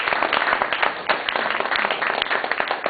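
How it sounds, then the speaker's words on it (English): Audience applause at a labour movement lecture for a trade union congress president, a close and even wash of many hands clapping throughout with nobody speaking. "Please give him a round of applause."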